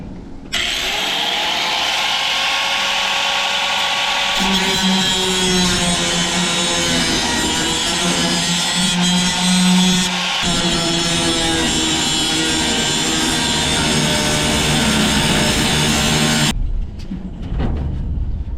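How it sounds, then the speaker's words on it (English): An angle grinder cuts through bolts with a loud, continuous high whine that holds steady for about sixteen seconds, its pitch dipping slightly as it bites into the metal, then cuts out abruptly. "just cutting with the angle grinder these bolts and just build our own base"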